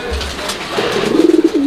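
Pigeons of a fancy breed kept in a loft coo close by, a soft low rolling call swelling and pulsing rhythmically over its last second after a brief low murmur.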